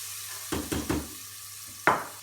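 Sliced courgettes and chorizo with spices frying in a pan, a low steady sizzle with a few stirring scrapes and a louder hiss near the end.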